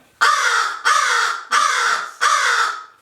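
Crows caw four times in a steady, evenly spaced series, each call loud, harsh and close, with no other sound around them.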